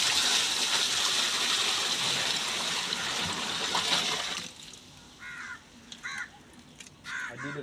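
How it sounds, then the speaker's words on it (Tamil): Stored water gushes steadily into a guppy aquarium, a loud continuous pour that stops after about four seconds, leaving quieter surroundings where crows caw several times nearby. "பிடிச்சி வச்சிருந்த தண்ணியவே ஊற்றிடலாம்."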